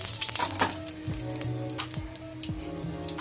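Mustard seeds crackling in hot oil in a pan while preparing misal, a steady close sizzle with scattered sharp pops and clinks of stirring throughout.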